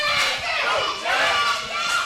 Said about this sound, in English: The crowd already saying new champ